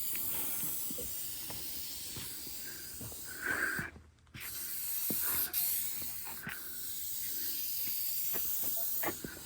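A spray gun sprays paint onto shop siding with a steady hissing spray throughout, close and continuous, with a brief pause partway through before resuming.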